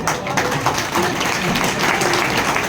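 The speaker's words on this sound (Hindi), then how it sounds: "ताली बजाओ, ताली बजाओ।" Audience applause at a seminar in Jabalpur, dense continuous clapping from many hands, loud and steady throughout.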